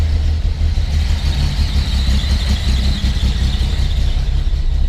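A 1974 Datsun 260Z engine runs on choke at a fast idle, giving a loud, steady low drone with a faint high-pitched whine over it and no talking.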